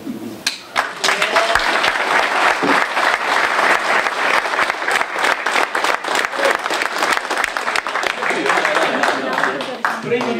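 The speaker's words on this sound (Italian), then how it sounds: "lo salutiamo con un applauso ancora tra noi" Sustained audience applause at a tribute event for an Italian motor racing figure, dense clapping filling the hall steadily for about ten seconds with a few voices mixed in.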